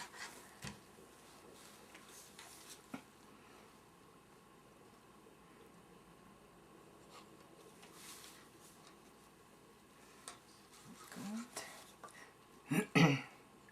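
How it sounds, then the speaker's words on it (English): Scattered coughs and throat clearing over a quiet background, sparse at first, then louder, closer bursts near the end. "Sorry about the coughing and scratchy throat thing."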